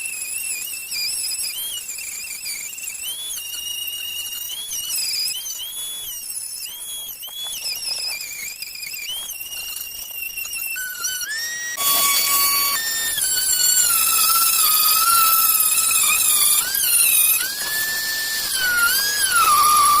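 A high-pitched power tool whines steadily while sanding the inside rail of a Mossberg 88 shotgun, its pitch dipping and rising as it bears down, growing louder and harsher about midway.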